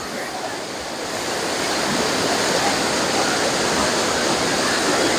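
Loud, continuous roar of rushing water below a high lookout point, a broad steady wash like a waterfall or torrent, swelling slightly after the first second.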